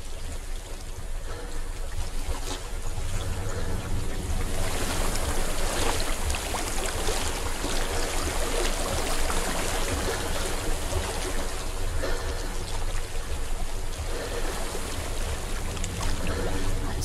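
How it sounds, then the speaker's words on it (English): Flowing water in the game Hellblade, a steady rushing, gurgling stream heard close and continuous for the whole stretch with no talk over it. "I hear water."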